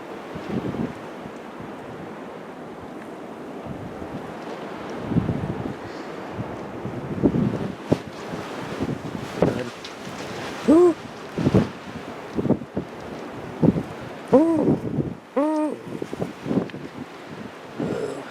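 Wind of a Christmas snow storm buffeting outdoors, rough gusty roar across the whole stretch with sharper bursts and a few faint whistling tones, no talk.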